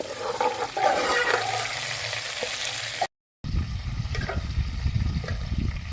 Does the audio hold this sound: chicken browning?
yes